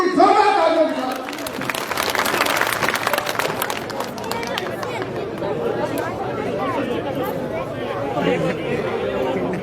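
A crowd at an election rally in Malkheda applauds a welcomed guest, a burst of clapping loudest in the first few seconds, then thinning into steady crowd chatter and overlapping voices.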